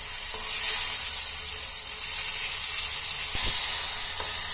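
Tomatoes sizzling in a pan with sautéed onions for a fresh green pea dal, a steady close hiss of frying with a couple of brief stirring scrapes.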